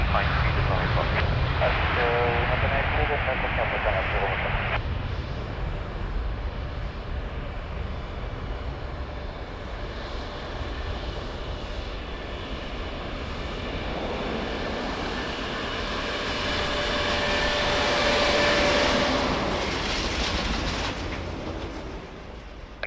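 An airliner landing at Lisbon Airport gives a broad, steady roar that builds and swells over about twenty seconds, with a tonal engine whine rising near the end, heard moderately far off under radio chatter.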